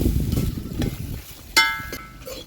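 Grated coconut roasting in a pan for a curry leaf chutney, with a soft scraping stir and low sizzle that fades, then a sharp metallic clink of a utensil against the pan with a brief ringing tone.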